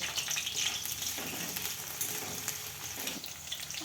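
Crushed garlic cloves, four to five of them, hit a pan already frying chopped chilli for a paneer and onion curry, giving a steady close sizzle with brief bursts of crackle and stirring, no voices.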